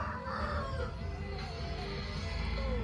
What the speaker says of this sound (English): And then you hear the chickens 1 minute